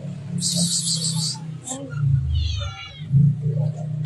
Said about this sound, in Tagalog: Pusa. Brother. Pusa.